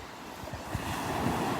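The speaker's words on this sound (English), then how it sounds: "It's that wind." Cold morning wind sweeps across the beach at Delnor-Wiggins, a steady rushing roar buffeting the microphone with soft surf washing underneath, constant and fairly loud throughout.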